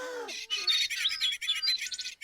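A brief high, warbling whistle imitates birdsong, quick fluttering chirps following a short low vocal sound.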